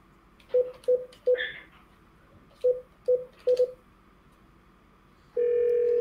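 Touch-tone keypad beeps as a phone number for Ypsilanti is dialed: short steady tones in uneven bursts with pauses, then a long continuous ringback or line tone at the end, clear and close, with no talking.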